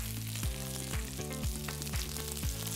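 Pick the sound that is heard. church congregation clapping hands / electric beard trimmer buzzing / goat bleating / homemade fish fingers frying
homemade fish fingers frying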